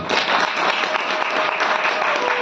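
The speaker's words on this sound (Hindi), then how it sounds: "इनके लिए जोरदार ताली।" Loud, dense applause from a devotional gathering during a Bhagavad katha in Vrindavan, a continuous wash of many hands clapping close and steady throughout.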